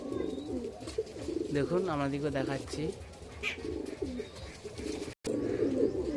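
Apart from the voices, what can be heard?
Madras pigeons cooing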